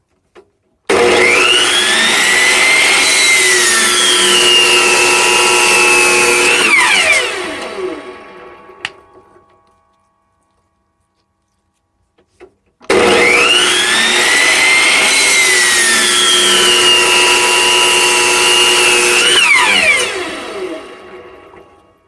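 Two long, loud bursts of a power saw whining through wood, slicing wood rounds for coasters, each lasting several seconds, separated by a pause, then winding down.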